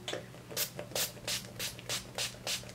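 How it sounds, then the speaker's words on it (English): Urban Decay makeup setting spray misted in a rapid run of about seven short, breathy hisses, evenly spaced and fairly close, over a faint steady background hum. "I'm gonna go ahead and set that real quick, and I'm gonna be using my Urban Decay spray today"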